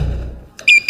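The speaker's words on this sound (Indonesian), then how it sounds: "tiba-tiba alarm berbunyi" A security alarm goes off at a prison entrance, two loud electronic beeps sounding close after a low rumble fades out.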